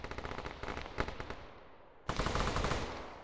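Rapid automatic gunfire shooting through a door in a competitive capture-the-flag video game match: bursts of shots, a brief lull, then a louder sustained burst.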